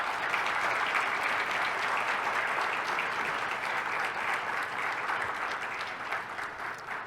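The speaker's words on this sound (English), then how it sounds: "Maybe a round of applause for our graduates." Sustained applause from an audience honoring graduates of a hovercraft special-limit training program at a maritime forum ceremony, steady and dense clapping filling the room without a break.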